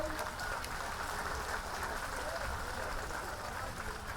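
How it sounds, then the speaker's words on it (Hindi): An audience at a devotional gathering at a school claps in a steady, dense patter that holds evenly throughout, fairly distant, with no talk over it. "एक बार जोरदार ताली उनके लिए।"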